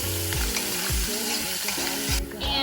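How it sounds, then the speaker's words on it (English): Garlic sautés in a pan on a stove with a close, steady sizzle, while a mechanical whirring repeatedly rises and drops in pitch underneath. "I'll go ahead and throw in my garlic."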